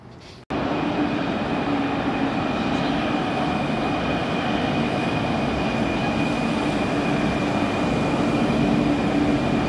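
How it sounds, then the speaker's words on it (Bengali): A Tehran metro train runs steadily at an empty Iranian station, with a loud, constant rumble of wheels and rail noise and a sustained tonal whine, starting abruptly after a brief quiet lead-in and continuing without a break. "Iranian train"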